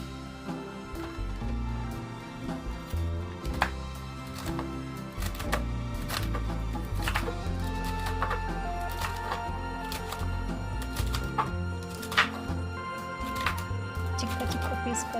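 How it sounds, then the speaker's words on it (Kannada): Knife chopping long beans into small pieces on a board, a steady run of sharp, close taps over about fifteen seconds, with faint background noise. "ಇವಾಗ ಚಿಕ್ಕ ಪೀಸ್ಗಳಾಗಿ ಕಟ್ ಮಾಡೋಣ."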